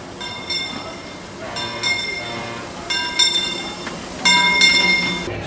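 A Disneyland theme park train rumbles along with repeated high metallic squeals and clinks from the wheels, and a faint background murmur of people.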